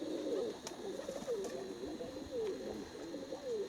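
Baku pigeons outdoors in strong wind, cooing repeatedly in a soft, fairly close and steady series over a low background hiss.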